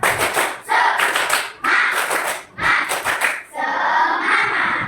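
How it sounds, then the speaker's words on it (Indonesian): A classroom of pupils performs the rhythmic 'tepuk semangat' spirit clap together, loud bursts of group clapping in patterned phrases separated by brief pauses, close and energetic. "Kita tepuk semangat dulu, tepuk semangat."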